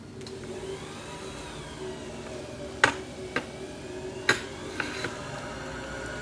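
A sewing machine runs steadily while winding a bobbin, a close mechanical whir that shifts in pitch, broken by a few sharp clicks and knocks.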